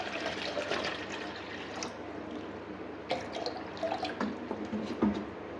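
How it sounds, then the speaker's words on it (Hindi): Water is poured into the jar of a kitchen juicer machine as the first step of a falsa sharbat recipe. Quiet, uneven splashing and trickling continue throughout, with a few sharper drips near the end and no talking. "सबसे पहले इसमें पानी डाल दूँगा"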